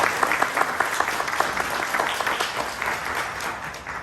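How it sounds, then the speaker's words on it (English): An audience claps for a speaker, a dense, continuous round of applause from many hands that holds steady for the whole stretch. "Another round of applause, please, for our speaker."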